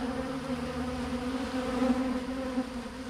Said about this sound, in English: There's so many bees here.